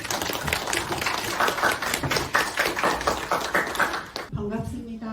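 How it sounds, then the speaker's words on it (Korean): Applause from a seated audience welcomes a medical nutrition lecturer to the front, steady moderately loud clapping that runs for several seconds and then drops off as a voice begins speaking. "큰 박수로 우리 김선미 원장님 모시도록 하겠습니다."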